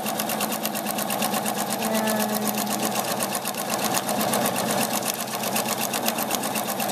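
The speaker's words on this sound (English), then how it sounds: "So I'm just sewing right along that line." A sewing machine stitching along a paper-pieced line for a castle wall quilt pattern: a steady, close, rapid mechanical chatter that runs without pause.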